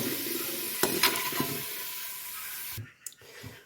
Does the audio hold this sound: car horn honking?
no